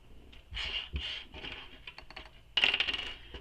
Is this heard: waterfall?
no